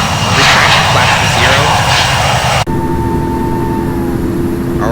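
Boeing 717-200 jet engines in the Infinite Flight simulator game, Hawaiian Airlines livery, during a missed approach and go-around: a loud, steady engine roar that drops abruptly midway to a quieter hum with a tonal whine.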